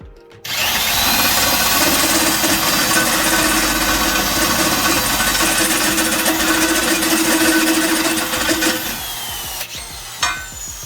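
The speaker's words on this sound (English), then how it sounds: "Sometimes you just need a powered tool. Plug in. Constant power." A corded power drill runs loud and steady for about eight seconds, boring through material during a bus conversion build, then winds down and stops, leaving a few brief knocks and clatter.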